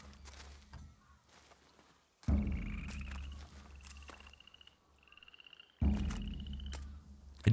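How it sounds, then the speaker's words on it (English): Frogs in the marshlands of the video game Ghost of Yotei croak in rhythmic bursts, rapid ratcheting calls repeating between quieter gaps, fairly close and clear. "I do like the frogs."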